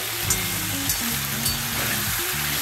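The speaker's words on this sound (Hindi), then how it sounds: "और चिकन हम फ्राई कर रहे हैं।" Chicken fries in a kadai over a high flame, giving a loud, steady sizzle with a crackling hiss. A few soft stirring knocks come through close by, and nobody speaks.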